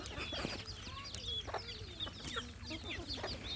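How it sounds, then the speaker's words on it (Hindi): Busy calls from a flock of white guinea fowl on a farm, with repeated chattering, clucking and sharp chirps layered over a steady low hum. "चकोर मनी जो चैना मुर्गी या सफ़ेद तीतरी जिसको कहते हैं"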